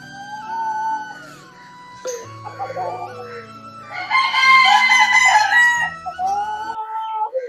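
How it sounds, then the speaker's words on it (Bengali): Chickens of various improved breeds at a resort, with a rooster crowing loudly and close along with overlapping clucks and calls from other fowl. "বিভিন্ন প্রজাতির মুরগি রয়েছে এখানে দেখতে পাচ্ছেন আপনারা"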